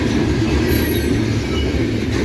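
A loaded CSX coal train, part of a combined 200-car consist, rolls past at Morgan Station Road with a steady, loud rumble and faint wheel squeal throughout, close by and continuous.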